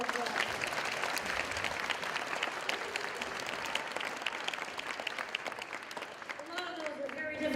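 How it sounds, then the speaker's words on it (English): Steady applause from a school audience at a Read Across America reading event, continuous and moderately distant, with a voice starting to speak as it fades at the end. "Let's give them all one more round of applause."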